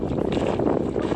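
Strong wind gusting over open water on a boat fishing trip under gathering storm clouds, a steady close buffeting roar across the mic with a low hull or water rumble beneath, no clear words.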